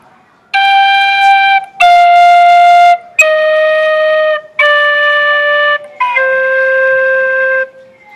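A penny whistle plays the opening bar of a song slowly, five sustained, clear notes separated by short breaths, close and loud with no talking.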